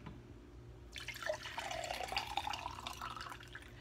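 Vinegar poured into a glass: a steady trickling splash of liquid begins about a second in and runs continuously to the end, fairly faint and close, with no talking.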